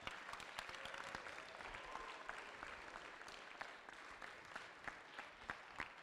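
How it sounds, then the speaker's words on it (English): Crowd applause for the competing teams at a robotics tournament qualifier, a steady wash of clapping from a large audience with a few sharper individual claps standing out. "Let's have a round of applause for all of the teams competing here today."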